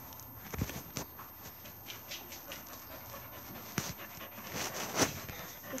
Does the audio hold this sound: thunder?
no